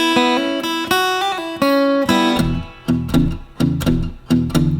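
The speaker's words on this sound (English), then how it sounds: "again, it's gonna sound like this, real slow" Slow blues guitar lick, a shuffle in E, played alone: a run of plucked single notes and ringing chords, then a choppier rhythmic passage of repeated strummed hits, close and clear.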